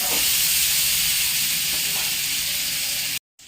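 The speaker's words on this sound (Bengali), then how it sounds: "আলুটা লাল লাল করে একটু ভেজে নেবো" Potato pieces coated in salt and turmeric fry in a hot pan, giving a loud, steady, close sizzle that runs unbroken and then cuts off abruptly just before the end.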